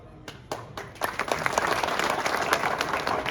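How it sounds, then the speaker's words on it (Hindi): Crowd clapping at a cabinet minister's inauguration of sewer works in a residential colony, starting as a few scattered claps and swelling after a second into steady, fairly dense applause. "तालियों की आवाज थोड़ी कम है भाई"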